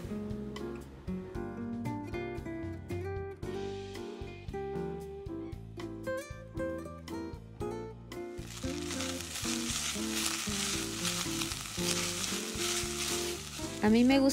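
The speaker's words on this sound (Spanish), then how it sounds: "A mí me gusta dejar dorar un poquito la carne de res" Ground beef browns in a pan, a steady sizzle that swells strongly in the second half, heard over continuous background music.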